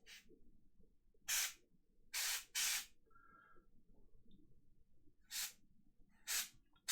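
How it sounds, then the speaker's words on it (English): Short hissing bursts of an airbrush spraying paint, several separate blasts of roughly half a second each, close and fairly loud over a quiet background hum, with brief gaps between them. "I'm definitely not gonna worry about overspraying here"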